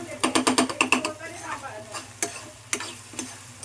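Ingredients being chopped finely with a knife for pasta: a quick burst of sharp, rhythmic chops at the start, then slower, scattered cuts spaced out, close and clear.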